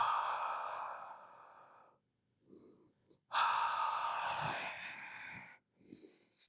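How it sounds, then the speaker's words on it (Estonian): Slow, deliberate breaths in a posture and breathing exercise at home: a long, steady airy exhale, a pause, then another long audible breath, close to the microphone with no talking. "Hinga aeglasemalt välja, lase õhk välja, loe 3 ja tõmba õhk sisse 4 peal."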